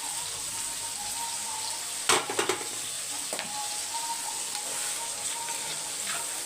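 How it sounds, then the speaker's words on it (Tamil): Brinjal and onion sauté in oil in a pan, giving a steady sizzle with the clatter of a spoon stirring around two seconds in, and nobody speaking. "கத்திரிக்காயும் வெங்காயம் நல்லா வதங்கணும்"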